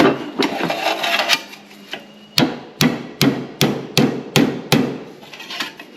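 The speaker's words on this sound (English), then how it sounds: "We're going to do a little bit more tapping" A hammer taps a bent metal roof panel to flatten it, a few scattered knocks followed by a run of sharp, evenly spaced close blows.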